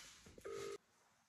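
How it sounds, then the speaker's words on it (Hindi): A phone call being dialled on speakerphone: a few short tones followed by a single loud, steady beep lasting about a third of a second, then quiet room noise. "तो अब हम उन्हें फोन करने वाले हैं, जैसे कि वैष्णवी फोन कर रही है तो स्पीकर ऑ"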